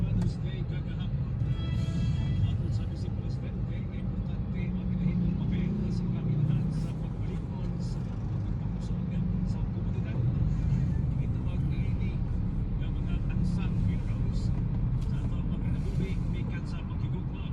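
Heavy road traffic on Coastal Road in Davao, a steady dense rumble of engines heard from inside a vehicle, with people chatting throughout.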